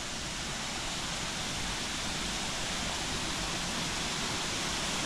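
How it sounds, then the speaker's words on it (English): A constant, full rush of water spilling down from the lake at Newstead Abbey, close and loud, holding an even roar for the whole stretch with no voices. "So we can see the water coming down from the lake here."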